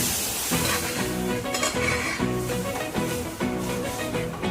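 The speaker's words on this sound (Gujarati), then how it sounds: "જો આ દાળનો વઘાર ના" Dal tempering sizzling and frying loudly in a pan, with stirring scrapes and occasional clinks of utensils running continuously throughout.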